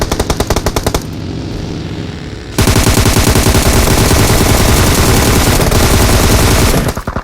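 Sustained automatic M416 rifle fire in PUBG Mobile on the Erangel map, loud and close: a rapid burst, a brief pause, then a long unbroken stream of shots before it cuts off.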